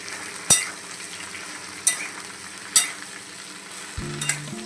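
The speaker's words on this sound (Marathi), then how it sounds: "भेंडीला चांगलं आपण तेलामध्ये असं फ्राय करून घेऊ." Okra fries in oil with a continuous sizzle, punctuated by three sharp scraping strokes of a spatula against the pan and a few low knocks near the end, close and alone without speech.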